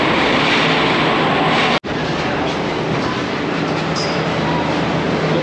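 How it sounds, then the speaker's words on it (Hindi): Metro train at Guru Dronacharya-area Gurgaon metro station, a loud, continuous rushing roar of the train with brief rail clatter, one sharp dropout partway through, no clear talk. "हम लोग आ गए हैं मेट्रो स्टेशन पे वापस"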